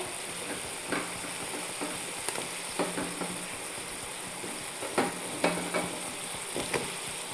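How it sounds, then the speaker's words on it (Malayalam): Lubika (lovi-lovi) fruit drops into boiling salted liquid, giving a soft continuous bubbling hiss with scattered clinks and splashes of pieces going in, close and fairly quiet. "അപ്പോൾ നമുക്കിനി ഇത് ലൂബിക്ക ഇടാം"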